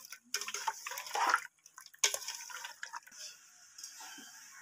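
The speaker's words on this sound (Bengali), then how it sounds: "এরপর আমি মাছগুলোকে যতটা সম্ভব ততটা জল নিগড়ে নিয়ে একটা অন্য পাত্রে তুলে নেব" Cooked loté fish (Bombay duck) being squeezed by hand to wring out water, giving irregular close wet splashes and trickles in short bursts that fade to faint dripping.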